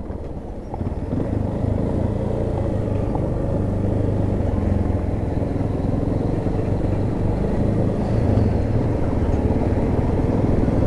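A Yamaha XTZ Lander 250 motorcycle is ridden along, its single-cylinder engine a continuous low, throaty drone with slight swells in pitch as the throttle shifts, steady and close, with no talking over it.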